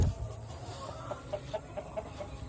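A rooster clucks in a soft, evenly spaced series of short calls, close but quiet over a low room hum.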